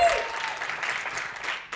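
Audience at an insurance business talk breaks into applause, a dense wash of clapping that fills the short stretch at steady loudness before tapering slightly at the end.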